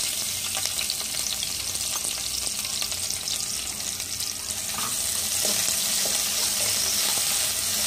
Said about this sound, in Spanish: Vamos a echar a freír la cebolla con el ajo